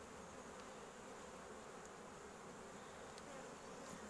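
Honey bees at an open hive, a faint, continuous hum with no break, quiet and distant, no voices over it.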